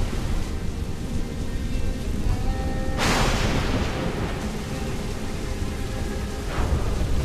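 Steady heavy rain from the Assassin's Creed 4 Black Flag game world, with a loud rolling thunder crack about midway and a fainter rumble near the end, no talking.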